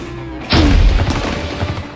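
A children's toy paintball battle tank fires with a sharp, loud pop followed by a brief rattling tail, close by, with no talking.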